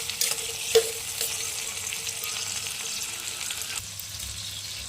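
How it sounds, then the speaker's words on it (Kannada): Onion fries in oil in a pan for a chicken gravy, a steady sizzle and crackle with a few stirring scrapes and a louder clink early on, continuous and fairly close. "ಸ್ವಲ್ಪ ಎಣ್ಣೆ ಹಾಕ್ಕೊಂಡು ಒಂದು ಟೊಮೊಟೊ ಅಥವಾ ಒಂದು ಈರುಳ್ಳಿನ ಫುಲ್ ಫ್ರೈ ಮಾಡ್ಕೊಳ್ಳಿ"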